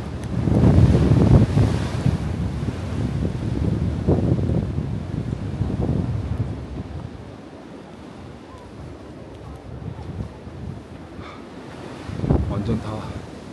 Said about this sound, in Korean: 바람도 엄청 불고